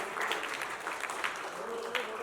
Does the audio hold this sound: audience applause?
yes